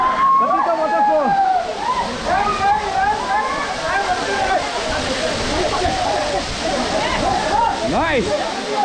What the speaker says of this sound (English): Katika Waterfall.